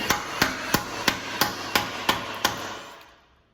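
Eight evenly spaced sharp metallic hammer blows strike a bolt with a bushing on farm equipment, loud and close, before the ringing fades to quiet.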